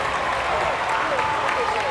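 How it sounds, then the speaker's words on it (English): Crowd at a boys' high school basketball game cheers and applauds steadily after a home-team score, a dense, continuous roar filling the gym with a commentator's voice running over it. "That gets this crowd hyped up."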